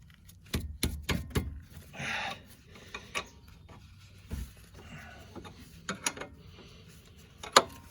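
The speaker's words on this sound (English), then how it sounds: "Before we put the Allen wrench in, we'll just try and break it loose." A 14 mm wrench breaking loose a sway bar link nut, with a few sharp metallic clicks and knocks, a short rasping scrape, and quieter scattered taps over a faint background.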